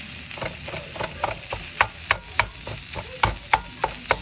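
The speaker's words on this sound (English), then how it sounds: "So now we're frying up all this meat." Meat sizzling in a pan while a spoon scrapes and knocks against it in uneven strokes, shredding the meat, close by, with no talking.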